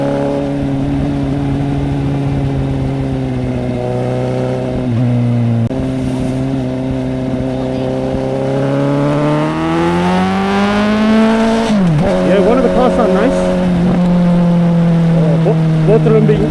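Exhaust of a Suzuki GSX-S750 motorcycle pulling away under part throttle, a loud close engine tone that climbs in pitch, drops briefly on a gear change, then rises again, with wind rush behind it.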